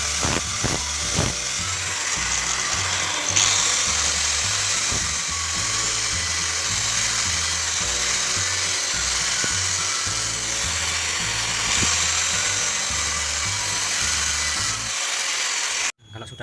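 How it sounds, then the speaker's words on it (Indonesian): Grinder smoothing the cut edges of a 1:16-scale miniature truck chassis, a loud, continuous close-up whine that rises and falls as it works the metal, then stops abruptly near the end. "Bekas potongannya tadi kita bisa rapikan pakai grinder"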